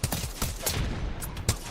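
Alternator fire in Apex Legends comes in quick, loud bursts of shots, several sharp cracks clustered near and far in short rapid runs.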